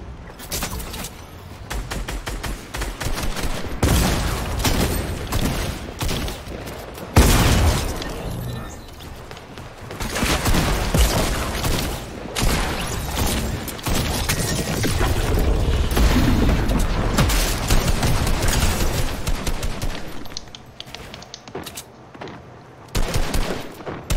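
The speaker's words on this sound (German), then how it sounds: "Ich schieße sie komplett runter" Fortnite gunfire: rapid automatic bursts and heavy booming shots crack loudly and continuously, with brief gaps between volleys and no talk over them.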